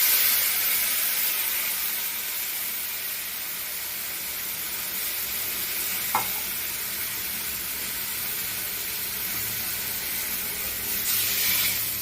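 Water is poured into spiced fish curry in a hot pan, giving a steady broad hiss and sizzle throughout with a single light knock partway, the hiss swelling slightly at the end.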